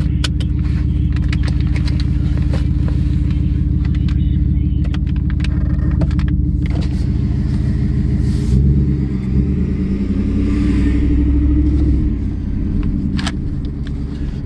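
A 2020 Ford F-150 regular cab pickup with a 5.0 V8 and aftermarket exhaust drones steadily from inside the cab, in sport mode, with low exhaust rumble that swells as it accelerates midway, along with some small rattles and clicks.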